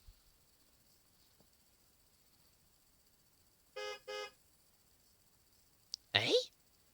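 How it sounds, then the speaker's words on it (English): A car horn gives two short honks near the middle, followed moments later by a louder, brief burst of noise, against an otherwise quiet background. "It sounded like a car horn."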